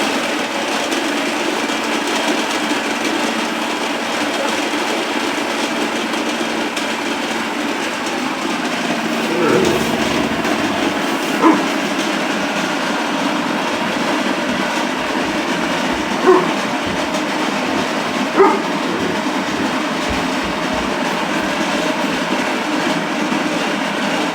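A loud, continuous grinding roar from a motorized grain mill grinding 100 grams of grain into flour runs throughout, with a rough steady texture and a few small clicks.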